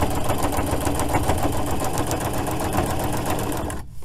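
A sewing machine stitches a patch onto a jacket pocket, a loud rapid mechanical chatter running steadily for about four seconds before stopping abruptly.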